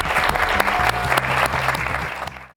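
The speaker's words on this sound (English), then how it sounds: "give her a big clap" Studio audience on a TV talk show clapping loudly and steadily for a woman posing in her bathing suit, lasting a couple of seconds before cutting off abruptly.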